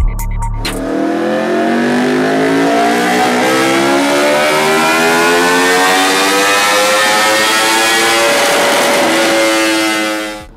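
A 2016 Aprilia RSV4 RR superbike with a full-system exhaust screams through a dyno run. Its engine note climbs steadily through a long, loud, close rev sweep for about ten seconds, then cuts off.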